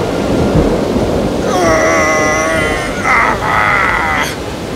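Loud, rumbling thunderstorm noise at sea rolls continuously, with eerie wavering tones sounding over the thunder partway through.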